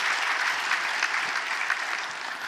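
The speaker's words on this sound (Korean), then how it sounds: "우리 한번 크게 박수하고 격려하시고 축복합니다" Church congregation at a Sunday service applauding visiting missionaries, including one from Liberia, Africa: steady, dense clapping from many hands that fills the room evenly, moderately loud and sustained without pause.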